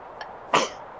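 A single sharp sneeze-like burst, loud and close, preceded by a brief faint sound, then quiet.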